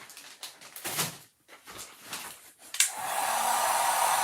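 A hair dryer drying stencil paint, first some clicks, shuffles and handling noises, then the dryer switching on with a sudden blast and running as a steady, close whoosh.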